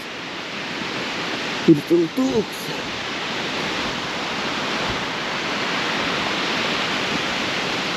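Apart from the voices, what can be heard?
waterfall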